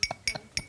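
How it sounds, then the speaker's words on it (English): A teaspoon clinks against a mug after stirring, three light, bright taps spaced evenly and close by. "so you stir it and then you tap."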